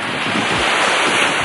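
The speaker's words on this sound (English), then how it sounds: "But guys, listen to those waves." Steady broadband roar of Gulf of Mexico surf washing on a beach at Gulf Shores, mixed with wind buffeting, continuous with no voices.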